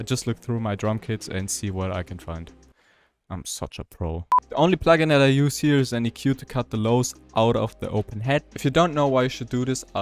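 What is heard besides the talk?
No everyday noise stands out behind the speech.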